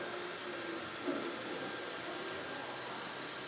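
Dyson Airstrait hair straightener blowing air on its high fan setting, a steady, even broadband whoosh that holds at constant level throughout with no pauses.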